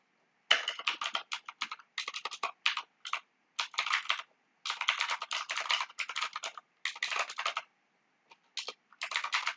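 Typing code on a computer keyboard for a C tutorial: close, crisp key clicks in quick bursts separated by short pauses, fairly quiet with no other sound.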